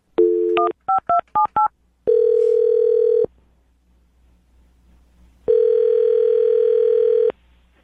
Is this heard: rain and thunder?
no